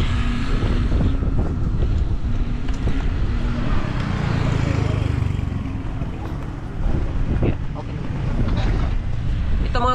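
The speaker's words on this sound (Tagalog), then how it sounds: "Ang lakas ng hangin" Strong wind buffets the microphone in a constant loud roar, gusting up and down, with faint water sounds beneath.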